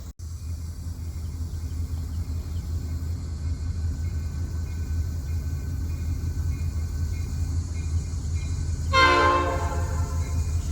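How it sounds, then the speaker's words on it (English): Steady heavy rumble of an approaching train builds throughout, then a loud horn blast sounds near the end, with no voices. "the train's coming from this direction"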